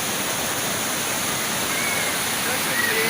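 The Jumog waterfall and the stream flowing from it in Karanganyar near Solo give a loud, steady rush of falling and running water that fills the whole stretch without a break.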